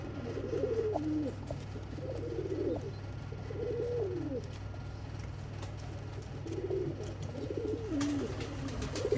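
Several pigeons coo in soft, repeated rolling phrases close by, in regular bouts over a steady low hum, with no talking.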